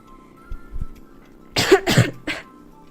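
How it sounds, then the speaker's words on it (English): A person coughs close to the mic: a short throat-clearing rasp, then a burst of two or three harsh chesty coughs in quick succession over quiet background. "this coughing is bad"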